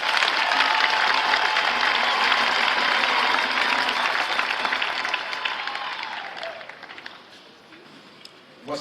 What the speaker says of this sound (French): Alors, mettez-vous Yamaba. Alléluia. Acclamons le Seigneur.